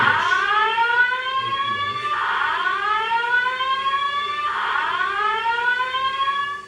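A fire alarm sounds loudly in repeated sweeping tones, each cycle rising then falling, about every two seconds, steady and continuous.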